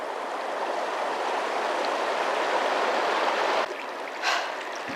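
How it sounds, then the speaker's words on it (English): A large river in the Sierra foothills rushes in a steady, broad roar of flowing water, close and loud, cut short near the end by a brief rustle. "It's just a huge river that I need to cross."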